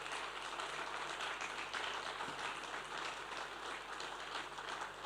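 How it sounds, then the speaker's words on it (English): Audience applause greeting a session moderator as he comes up at the Kingdom Summit 2020, a business panel event; steady, moderately distant clapping that fills the whole stretch with no one talking over it. "Keep clapping, please, as he comes."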